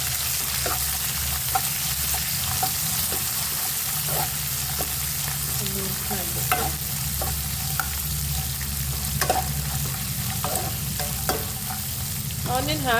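Onion and chilli frying in oil for a flattened-rice lemon chitranna, with a steady broad sizzle and repeated spoon scrapes and stirs against the pan, close and continuous throughout.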